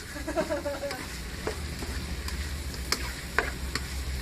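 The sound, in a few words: sauteing chicken in a pan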